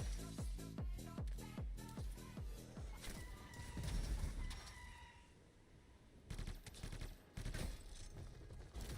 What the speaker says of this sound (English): Dude, why is this dude shooting at me?